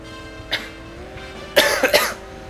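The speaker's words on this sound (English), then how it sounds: "He doesn't even cough that bad." Coughing from a Simpsons Hit & Run game character: a single short cough, then a louder burst of two or three rough coughs a second later, standing out over a steady game background.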